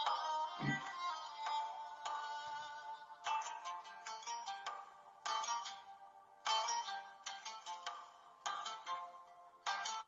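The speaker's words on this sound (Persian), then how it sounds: "نکه تلفن ما بود" A phone ringtone plays a melodic electronic tune in repeated bursts with short gaps, fairly clear and alone, with a brief low thump near the start.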